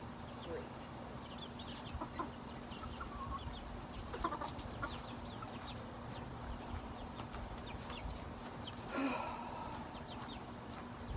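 A flock of chickens clucks at feeding time, with low, overlapping murmuring clucks, scattered sharper calls and one louder squawk, all over a steady background hum.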